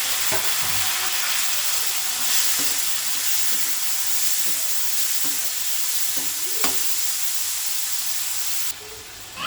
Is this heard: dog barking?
no